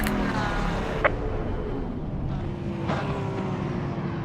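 Ford Mustang GT3 race car engine in a racing video game, a steady mid-level drone rolling on after the checkered flag at Kyalami, with a couple of brief sharp clicks and no voice.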